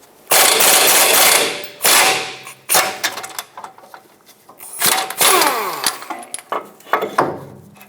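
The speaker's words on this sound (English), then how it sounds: "we're going to use a 21mm socket and remove the two bolts that hold the caliper bracket onto the axle" A ratchet with a 21mm socket loosens the caliper bracket bolts on the rear axle of a 2011-2018 RAM 2500, producing loud, harsh bursts of clicking and grinding strain, separated by short pauses and lighter ratcheting.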